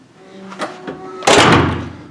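Hotel room door at the Southpoint in Las Vegas swinging shut with a loud slam near the midpoint, preceded by faint creaks and knocks, followed by a brief rattle as the door sign drops, all close.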